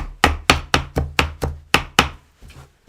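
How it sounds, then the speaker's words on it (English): A knife chops fresh cilantro on a cutting board: about nine crisp, evenly spaced strokes close up, fading into a few lighter taps at the end. "Just chopping up about a quarter cup here."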